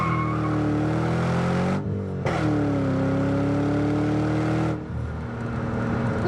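A supercharged 2005 Ford Saleen convertible with a 4.6 engine pulls hard, its loud rising engine note climbing through the gears, with a brief lift-off gap and a gear change before the revs fall back to a lower drone.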